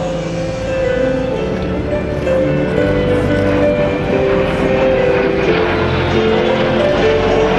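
A 1958 Lockheed T-33 jet trainer passes at an airshow around 370 mph, its loud, steady engine roar filling the air and sustained with no break.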